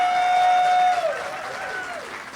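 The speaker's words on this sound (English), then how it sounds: "Give her a great big round of applause." Audience applause at a Martin Luther King Jr. prayer breakfast held by a Georgia labor council, a steady burst of clapping that fades over a couple of seconds, with a faint tone ringing over the start.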